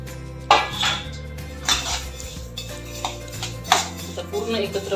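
Mukhwas mixture is tipped into a metal kadhai and stirred, producing several clattering metal knocks and scrapes against the pan over a low steady hum.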